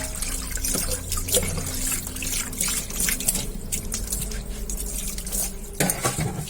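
Running water and dripping as kitchen items and a small basket are rinsed and washed at a sink, with steady splashing, trickles and occasional clinks close by.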